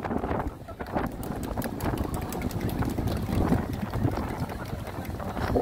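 Wind buffeting a street performance microphone at an outdoor busking show in Sinchon, a steady broadband rumble that stays loud and continuous throughout with no pauses.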